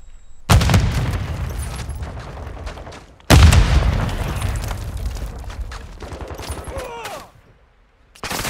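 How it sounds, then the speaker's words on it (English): Sticky grenade blast in Call of Duty: Modern Warfare II: two loud, close booming explosions mixed with bursts of gunfire, the second blast followed by rattling shots and debris before a brief near-silent gap, with some voices under the din. "Tossing sticky grenade!"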